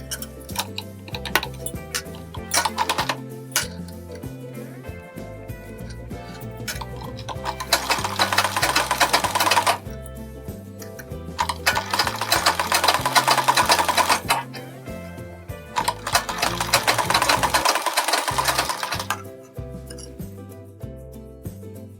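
Sewing machine stitching a blouse sleeve, running in several bursts of rapid, even needle chatter with short pauses and handling clicks between them, close and clear with no talk.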